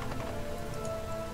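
A rain spell cast in the fantasy role-playing game Divinity: Original Sin patters as a soft, brief wash of falling raindrops, quiet and steady with no talk over it.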